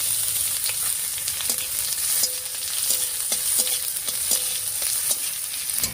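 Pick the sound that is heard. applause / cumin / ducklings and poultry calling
cumin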